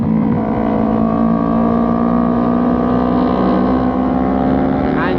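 A modified Yamaha R15 motorcycle, recently crashed, holds a loud continuous engine drone at steady revs with heavy wind rush over the microphone throughout.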